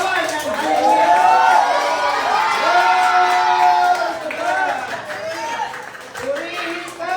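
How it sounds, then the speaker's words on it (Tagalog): A worship congregation claps and shouts Hallelujah, a loud, sustained mass of voices and applause rolling continuously with rising and falling cries. "Palakpak na pwedeng samahan na pinagsigawan ng Hallelujah!"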